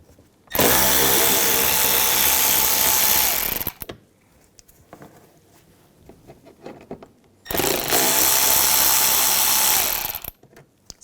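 A power tool with a T25 socket backs screws out of the inner fender well of a 2011-2018 Volkswagen Jetta, whirring in two loud, sustained bursts of about three seconds each, close by, with quiet handling noise between them.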